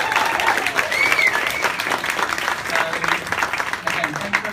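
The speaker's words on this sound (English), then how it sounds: "let's give a massive round of applause for this" An audience at a live music Q&A event claps loudly for a pop singer's new album, a dense, close wash of applause with brief whoops and a voice mixed in.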